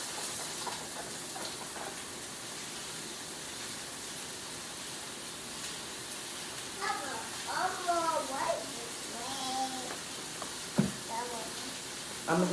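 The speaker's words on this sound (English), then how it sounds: "add my mushroom to this grease over here" Mushrooms frying in grease while preparing a stuffed fish dinner, a steady loud hiss and sizzle throughout, with a voice and other chatter heard faintly over it.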